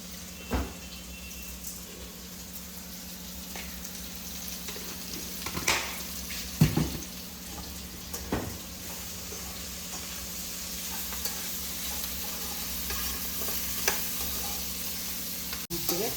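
Salted bitter gourd fries in oil in a pan while being stirred, producing a continuous moderate sizzle with scattered sharp clicks and scrapes from the utensil over a long stretch, no talking.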